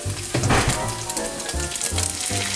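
Ground meat mixture sizzling loudly in a frying pan for a taco pizza, with steady crackling spatter and a few bursts of louder sizzle as it is stirred.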